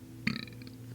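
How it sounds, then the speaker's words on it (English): One short, loud burp erupts near the microphone, then trails off into quiet. "hold on, I got a burp"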